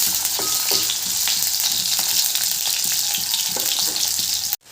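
Chopped onions fry in hot oil in a pan for an Assamese drumstick curry, a steady close sizzle with faint crackles and a few clinks of stirring, cutting off abruptly at the end.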